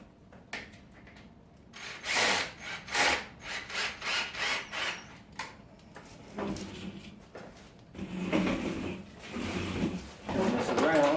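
Bolts being tightened during assembly of a Costway four-piece patio set, rhythmic ratcheting and rubbing strokes in bursts of several turns, close and fairly loud, with brief pauses between runs.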